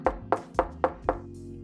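Five evenly spaced knocks on a door in a Turkish animated children's fairy tale, sharp and close, with a low musical bed underneath.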